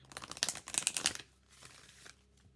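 Quick crisp riffling of oracle cards, a rapid burst of papery flutters, then quieter scattered rustles.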